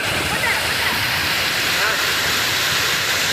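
Water gushing over the Thamaraipakkam check dam, a loud, continuous broadband roar like a waterfall, with voices talking over it.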